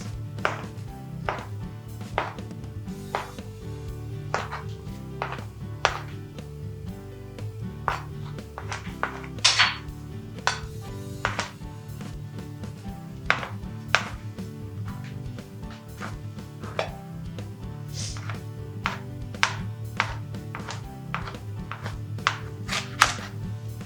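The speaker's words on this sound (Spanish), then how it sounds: "Vamos a guarrearnos un poco con la remolacha, que también cortaremos en daditos." Beetroot being chopped into small dice with a knife on a board, a long run of crisp, close knocks at a steady, slightly uneven pace, with no talk over it.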